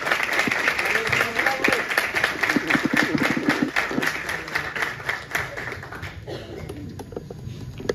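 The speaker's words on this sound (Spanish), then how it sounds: "¡Fuerte el aplauso para él!" Crowd at a world cueca championship night claps in rapid, rhythmic applause, loud and close at first with distinct sharp claps, then thinning out as a voice and background murmur come through.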